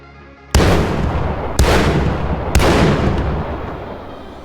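Three loud, sharp gunshots from the Rei shell-loading weapon in a VR video game, spaced about a second apart, each followed by a long booming decay.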